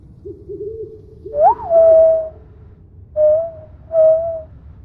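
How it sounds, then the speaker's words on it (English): Owl hoots in VRChat, three clear whistled calls, each a rising note followed by a held tone, close and loud over a low background hum, with a soft warbling tone before them. "I can make that noise. Owl."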